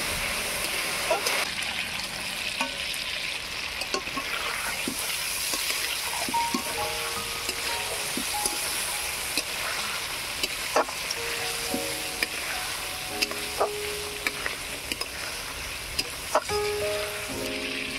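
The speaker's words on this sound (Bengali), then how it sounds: "এবারে ভেজে রাখা পটলগুলো দিয়ে দেব।" Fried pointed gourds tossed into a yogurt spice masala sizzle steadily in a hot pan, with a constant close frying hiss and scattered scraping clicks from stirring.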